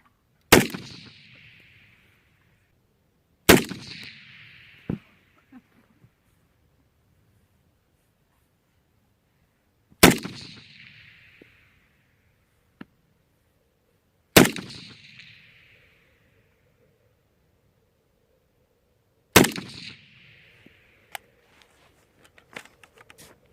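A rifle fitted with a Feyachi RDS-22 red dot sight fires five loud, sharp single shots at uneven intervals several seconds apart, each ringing out and decaying outdoors, with no talk in between.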